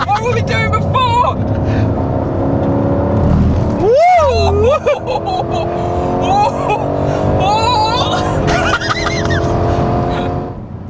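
A car lapping the old F1 Hockenheimring, engine loud and sustained with rising and falling revs and gear changes, while people talk over the cabin noise throughout.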